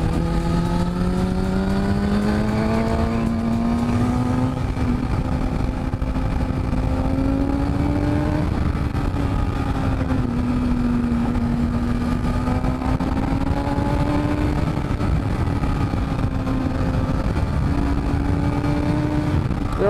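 A 2008 Kawasaki ZX-6R sport motorcycle being ridden: a continuous, loud engine drone whose pitch rises and falls gently as the throttle changes, heard alone with steady wind roar underneath.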